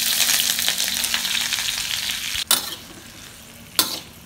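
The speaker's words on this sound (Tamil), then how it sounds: "வெங்காயம் நல்லா பொன்னிறமாக வறுத்துக்கணும்" Five large onions frying in the same oil where cinnamon and chilies were fried, for a quick tomato chutney: a continuous close, bright sizzle with two sharp stirring knocks near the end, no talk.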